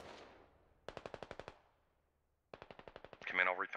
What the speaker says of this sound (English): Looks like those rounds are pretty close